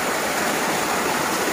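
A flowing mountain water stream in a Himalayan hill village: a steady, loud rush of water, continuous and close, with no voices over it.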